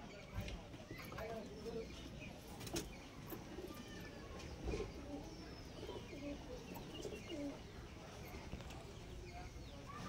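Pigeons in a Najra pigeon loft coo in low, soft rolling calls with scattered chirps and wing or foot shuffles, faint and quiet, while people talk over them.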